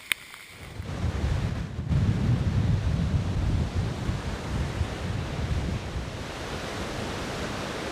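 Waves and wind on open water during a long cross-Canada canoe trip, a steady loud wash of surf and gusting wind noise on the microphone, with no voices.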